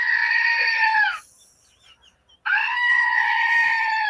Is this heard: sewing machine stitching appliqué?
no